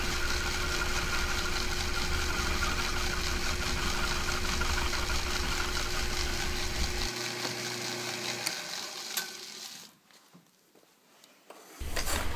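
A milling machine cuts a notch in metal for a carriage indicator holder, giving a loud, constant mechanical hum and whir that runs steadily, then drops away near the end before briefly returning.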